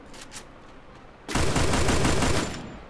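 Rapid bursts of automatic gunfire from a Free Fire duo-versus-duo battle royale match hit loud and dense after a quieter opening stretch, then continue for over a second before tailing off.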